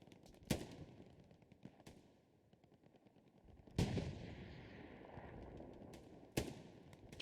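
Gunshots ring out in the World War II shooter game Hell Let Loose during a competitive esports match, several sharp reports spaced irregularly over scattered distant firing, some close and loud, others fainter.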